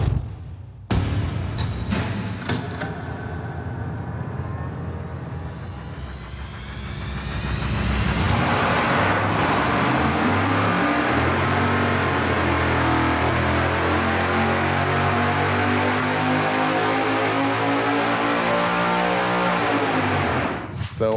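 A blown and nitrous-fed big-block Chevy engine on a dyno fires with a few sharp bursts, idles roughly, then swells into a loud, sustained high-rpm roar before cutting off abruptly.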